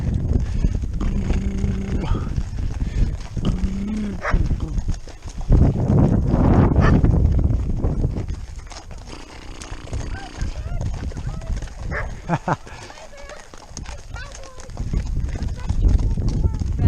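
Hooves clip-clop at a walking pace nearby, mixed with people talking and other outdoor noise.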